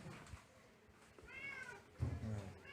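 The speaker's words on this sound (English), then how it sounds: "There goes the cat." A house cat in a home in the Philippines gives two short meows, one rising in the middle and another near the end, amid low rustling and faint background noise.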